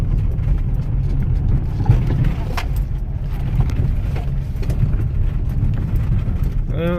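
A cheap $20 rally car rumbles steadily around a yard. Its low engine drone stays constant under faint background noise, and there are occasional thumps from the rough ground.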